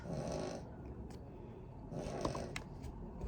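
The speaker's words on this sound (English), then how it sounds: "La Perrita snoring" A dog's soft, raspy snores repeat in slow breaths, close and quiet, with faint rustling between them.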